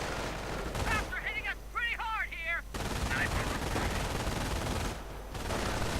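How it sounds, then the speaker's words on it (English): Continuous MG42 machine gun and rifle fire in a WWII strategy game rattles almost without pause, with the sound thinning briefly mid-clip, while a voice speaks over part of it. "MG42 having set up, suppressing these riflemen, killing a few and forcing the riflemen into a full rout."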